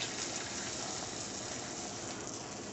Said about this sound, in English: And let's get our egg on there. Love that sizzle.